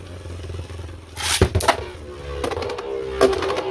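Beyblade Burst spinning tops, including a Xiphoid Xcalibur, are launched into a stadium, giving two sharp ripcord rips followed by a steady whirring scrape and clatter of tops grinding against each other.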